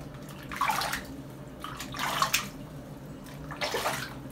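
Water splashes in three separate bursts as a ferret is rinsed during a bath, each splash fairly close and moderately loud with quiet gaps between.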